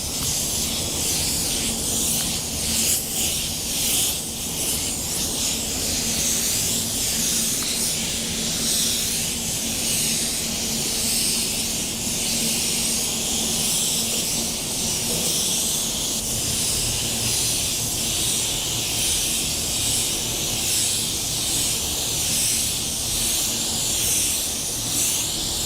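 A paint spray gun applies a wet base coat, giving a steady, loud, continuous hiss of atomized spray that runs unbroken for the whole stretch with no talking.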